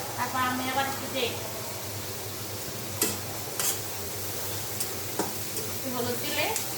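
Okra frying with turmeric in a pan at home, a steady sizzle with scraping stirs and a few sharp clicks of a utensil against the pan, close and fairly loud.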